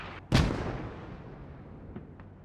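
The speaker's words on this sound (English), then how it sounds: "mortars are hitting nothing but air" A single heavy mortar shell explodes in a video game battle with a sharp boom and a long fading rumble, followed by a couple of faint distant thuds.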